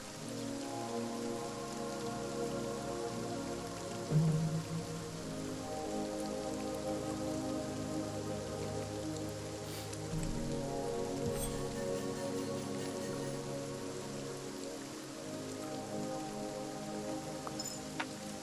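Steady rain patters down without a break in the video game Kingdom Shogun, a soft even hiss of drops over faint sustained tones.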